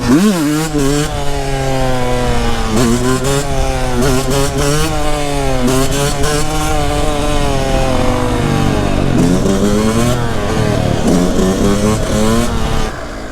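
A two-stroke supermoto motorcycle screams hard through its gears on a street, close and loud, its rising pitch climbing and dropping in repeated sweeps as it accelerates continuously.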